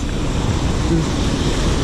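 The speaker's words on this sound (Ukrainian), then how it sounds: "Так шумно, коли по воді." An electric scooter rides through standing water on a rainy road, throwing up a loud, continuous rushing wash of splashing and wind noise with no break.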